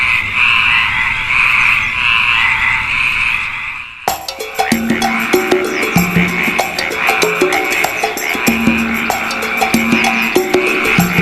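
Dense chorus of many frogs croaking in a plague of frogs in Egypt, loud and close, with a sharp swell after the first few seconds into overlapping rapid croaks and no talk.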